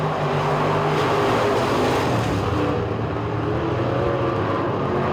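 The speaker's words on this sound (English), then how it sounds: "David Earl Gentry knocking on the door, looking to the inside in car number 56" Street stock race cars roar around a dirt quarter-mile short track during a heat race, a loud, continuous blend of engines at close range with no break or pause.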